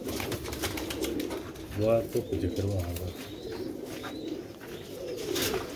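Pigeons of a prized rooftop breed cooing in a loose, rolling burst near the middle, with other faint chirps around it, heard under steady talking by a man close by.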